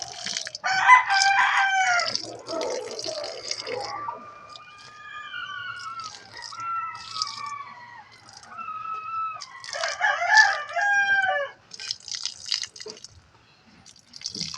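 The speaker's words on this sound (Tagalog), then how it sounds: "yung aking mga alagang manok po" Chickens cluck near and far while a rooster crows in the background, with soft dripping water and no one talking, at a backyard vegetable garden with pechay, tomato and chili plants.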